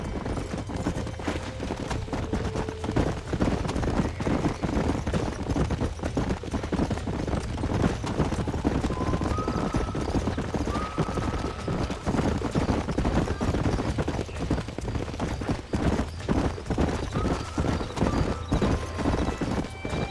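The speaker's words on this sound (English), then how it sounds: "These are fine horses." Horses galloping in the Red Dead Redemption video game: a steady, dense clip-clop of hooves runs nonstop at close range, with an occasional neigh rising above the pounding rhythm.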